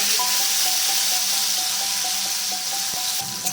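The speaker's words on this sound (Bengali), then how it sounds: "উচ্ছেগুলোকে লাল করে ভেজে নেবো" Bitter gourd slices fry in hot mustard oil, giving a steady, close, dense sizzle with faint scraping stirs throughout and no talk.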